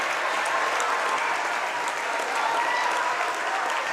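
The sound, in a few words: crowd cheering at high school basketball game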